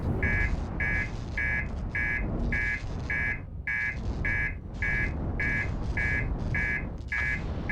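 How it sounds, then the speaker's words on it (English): An alarm in the video game Outer Wilds beeps steadily in a long, regular series of evenly spaced tones over a dense ambient rumble, with no talk. "Can you stop beeping?"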